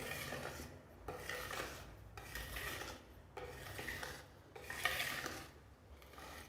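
A spoon or spatula scrapes and folds cake batter in a bowl, repeating in slow rhythmic strokes that rise and fall, quiet and close, with no voices.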